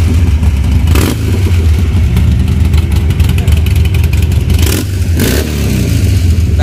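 A superbike fitted with a Screaming Eagle exhaust revs hard nearby, a loud deep rumble with two sharp throttle blips, while people talk over it.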